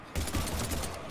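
Rapid, dense volley of gunfire in a Mass Effect 3 combat scene against husks, a loud continuous stream of closely spaced shots heard alone for just over a second.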